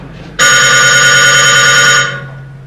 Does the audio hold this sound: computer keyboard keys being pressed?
no